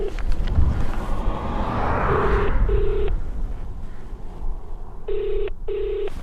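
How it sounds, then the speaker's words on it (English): A phone ringback tone sounds in repeated short paired bursts against a windy, rumbling outdoor background, calling a bush camp near Otjiwarongo, Namibia. "It's ringing."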